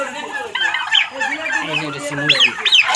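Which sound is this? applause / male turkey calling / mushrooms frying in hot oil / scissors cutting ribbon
male turkey calling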